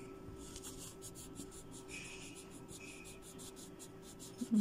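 Pencils being sharpened by hand during homework at home, a soft continuous scraping and rubbing close by, steady and quiet with a small knock at the end.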